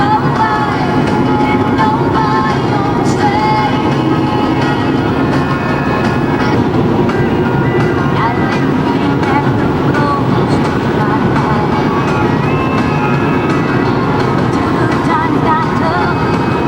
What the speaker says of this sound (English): a choo-choo train down there, if you can see that